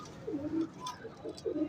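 Migratory flying pigeons coo in a few soft, low, throaty bursts close by, with brief pauses between the calls.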